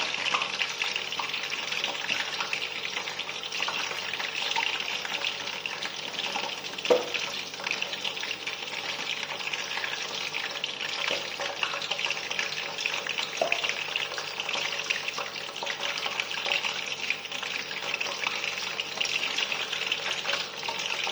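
Peanuts deep-frying in hot oil, pre-fried for extra crispness: a steady, dense sizzle and crackle that holds evenly throughout, close up, with a few faint clinks and no voices.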